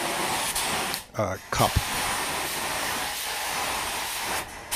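Paint spray gun spraying a 3rd-gen Dodge Ram's replacement rocker panels, a steady close hiss that runs almost throughout, broken by a short gap where someone speaks.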